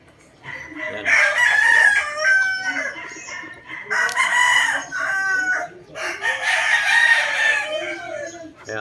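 Gamefowl roosters crowing, with three loud, close crows in sequence, each a long harmonic call, plus some softer clucking between them.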